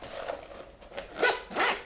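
A zipper closing a DJI Mini 2 carrying case, a few short raspy pulls with a faint scratchy stretch first and two brighter, louder zips toward the end, heard up close with no talk.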